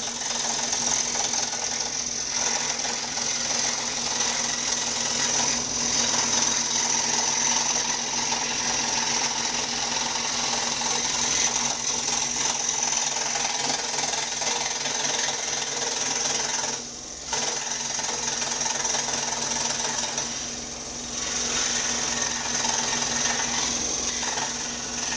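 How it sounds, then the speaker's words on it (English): A table scroll saw cutting a rosewood pick guard for a Gibson SG style guitar, a steady close whirring buzz of the blade that runs nearly unbroken throughout with two brief dips. "I'm going to take a table scroll saw, and I'm going to cut the shape of this thing roughly"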